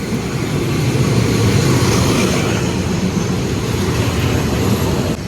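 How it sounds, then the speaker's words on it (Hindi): A train pulls into a station in Bangkok, a steady loud low rumble that swells slightly and holds, with no talk over it. "ये रही ट्रेन।"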